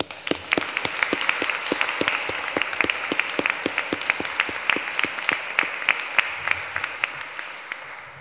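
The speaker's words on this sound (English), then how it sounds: "I think that you deserve a big round of applause." Graduation ceremony audience applauding in a chapel, crisp individual claps standing out in a steady rhythm over a broad wash of clapping, close and sustained throughout before thinning at the end.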